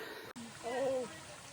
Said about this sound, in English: Filtering water